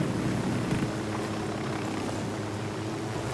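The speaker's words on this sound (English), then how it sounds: "Look at the chopper I got now." A helicopter in the video game Ghost Recon Wildlands drones steadily with a dense rotor and engine rumble, continuous and fairly loud throughout.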